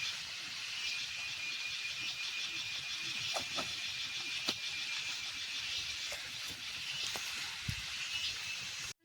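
Oil poured into a hot pan over a wood fire gives a steady, quiet hiss with a few faint pops and clicks, no talk.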